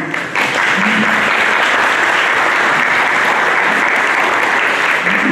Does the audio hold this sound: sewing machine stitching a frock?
no